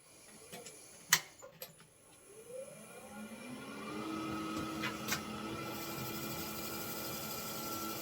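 A wood lathe spins a spalted maple bowl at roughly 800 RPM during friction polishing, giving a quiet steady hum with rising whine tones and a few sharp ticks and knocks near the start.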